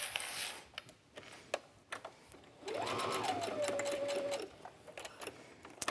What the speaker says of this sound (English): I just like to stitch down one side of the strap